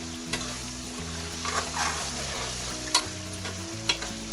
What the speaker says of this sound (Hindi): मसालों को हमने मीट के अंदर अच्छी तरह से भून लिया है